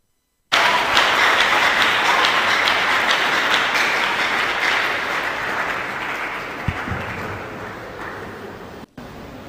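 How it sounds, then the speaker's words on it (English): Sustained audience applause at a tech event fills the space, a dense continuous wash of many hands clapping that slowly fades slightly toward the end, with no one speaking over it. "I didn't even have to tell anybody to keep clapping. Everybody's clapping."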